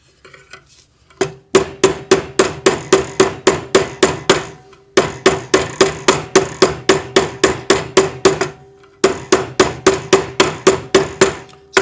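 A metal bangle is hammered down into a groove, giving rapid, evenly spaced ringing metallic strikes in three long bursts with short pauses between, loud and close, with no voices.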